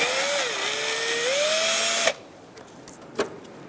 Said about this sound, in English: I'm going to use a Phillips head and a drill to